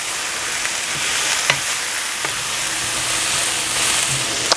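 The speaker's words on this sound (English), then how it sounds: "now I'll add my celery to that. And I will cook that for a couple of minutes." Chopped celery cooks in a pan on a beef pasta base, giving a steady bright sizzle with occasional soft taps and stirring scrapes, close up and without talk.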